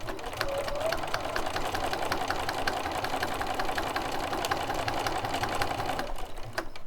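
A sewing machine stitches quilt binding flat at an angle in one continuous close run, with a steady rapid mechanical chatter and a rhythmic ticking throughout.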